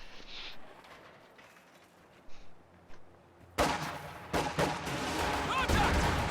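Small arms gunfire in a World War II–style war game with infantry and Panzer Fusiliers: a few faint distant shots, then a sudden loud burst of rapid volleys and cracks continuing to the end.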